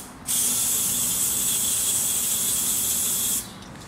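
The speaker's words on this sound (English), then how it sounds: "I also use some carburetor cleaner." Carburetor cleaner is sprayed into the EGR passage of a 1998-2002 Honda Accord V6 engine in one steady, close, loud hiss lasting about three seconds, then it cuts off.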